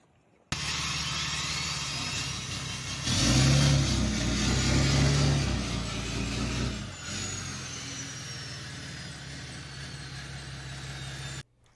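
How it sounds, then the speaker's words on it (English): A four-wheel drive vehicle pushes through mud on a mountain homestead during a winter thaw, its engine droning steadily nearby and swelling into a louder rev partway through before settling back. "having a four-wheel drive vehicle is non-negotiable where we live"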